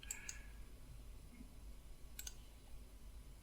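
A few faint, sharp clicks of a computer mouse while working in Blender, spaced apart in a quiet room with low background hiss.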